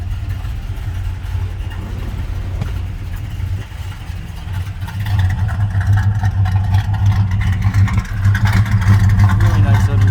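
A restored 1966 Chevrolet Impala with its original 327 V8 rumbles through turbo-style mufflers, a steady low lumpy idle that swells louder partway through as the engine is revved, close and alone.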